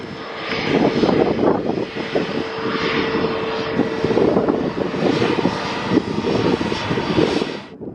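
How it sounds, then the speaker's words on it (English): A Ryanair Boeing 737 jet roars steadily at Stockholm Arlanda airport in the early evening, loud and close, with a sustained engine rumble and whine that cuts off abruptly at the end. "We have a Ryanair Boeing 737."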